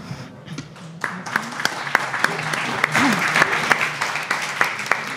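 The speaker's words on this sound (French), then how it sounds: "Je crois qu'elle mérite ses applaudissements" Audience applauding after a talk at a French-language conference, steady dense clapping filling the room at close to moderate distance, with sharper individual claps standing out near the end.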